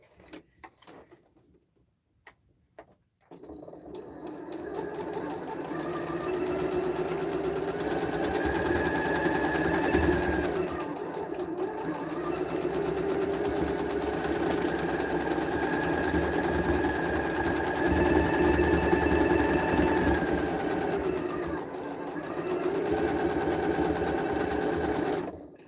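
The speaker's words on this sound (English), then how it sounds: "you sew with that 1/4 inch seam allowance again" A sewing machine runs steadily while stitching a quilt seam with a quarter-inch allowance, a continuous close whir lasting about twenty seconds after a quiet start, with slight changes in speed.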